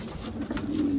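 Racing pigeons coo softly in short, close murmurs that overlap with a low warbling hum and no talking.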